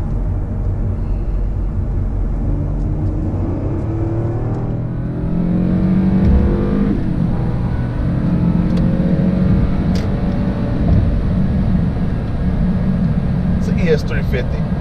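A Lexus ES350 sedan drives along a road in North Dallas, its engine rumbling and swelling as it accelerates, with a steady low drone throughout and someone talking over it.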